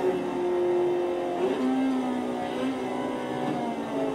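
Engine of a black all-wheel-drive car in a racing video game at a test track, a steady droning tone with small pitch shifts as it revs, heard alone with no talking.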